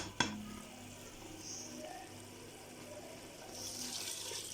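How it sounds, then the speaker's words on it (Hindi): Water runs into a pot of lobia (white bean) curry with a steady splashing flow, starting after a brief knock and swelling slightly toward the end. "और अब मैं इसमें शामिल करूँगी पानी।"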